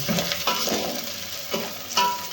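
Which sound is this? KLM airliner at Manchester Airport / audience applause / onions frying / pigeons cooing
onions frying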